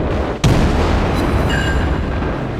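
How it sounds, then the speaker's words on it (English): A torpedo strikes a ship in the naval video game World of Warships, a single sudden loud boom followed by a sustained rumbling roar that carries on to the end. "Oh, hey, my torpedo hit."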